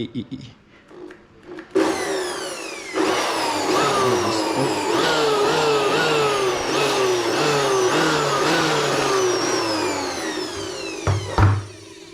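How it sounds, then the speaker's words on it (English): An electric air blower cleaning dust out of a desktop computer system unit, roaring up loudly and running steadily with a shifting, whirring pitch before cutting off near the end, with a voice briefly audible. "You have to be careful when you blow this."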